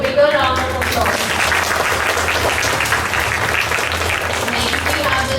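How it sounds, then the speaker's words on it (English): A school orientation audience gives a sustained round of applause, dense clapping filling the room steadily throughout, with some voices mixed in. "So we need a bigger round of applause."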